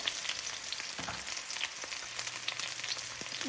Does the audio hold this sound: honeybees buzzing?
no